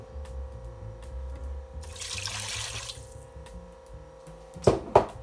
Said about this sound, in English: now we need to add the beef broth.